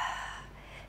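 A single audible exhale during a beginner chair Pilates exercise for older adults, a short soft breath out, close and alone.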